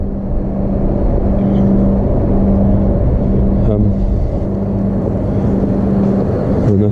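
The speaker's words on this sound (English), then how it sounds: "Just started up the tractor. Get that warmed up." A farm tractor engine, just started and warming up, idles with a steady, close, continuous rumble and low drone, holding an even level throughout with no clear revving.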